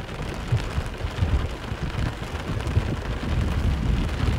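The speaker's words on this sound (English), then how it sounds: "Here comes the rain and thunder" Steady heavy rain with low rumbling thunder rolling underneath, heard from a car during a thunderstorm, continuous and fairly loud throughout, no voices.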